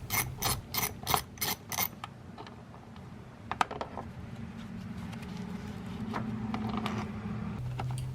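A ratchet removing a 10mm screw in the engine bay of a 1997-2001 Toyota Camry with a 2.2L engine, giving a few seconds of close, rapid clicking bursts, then softer scattered clicks over a steady low hum.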